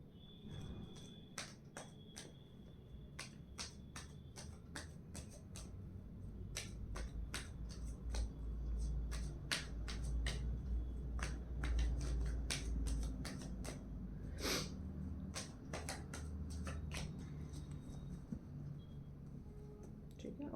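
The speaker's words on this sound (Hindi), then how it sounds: "तो इसके लिए अब हम सब 7 कार्ड निकालते हैं" Seven cards drawn one by one from a deck during a tarot-style reading, a long run of crisp, sharp card snaps and flicks at an uneven, steady pace, close and clear, with no talking.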